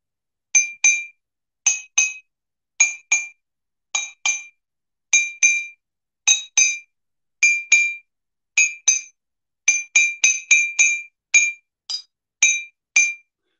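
Bright metallic rim strikes on a metal idiophone ring out one after another in a steady series, with clear bell-like tones at two alternating pitches, close and alone.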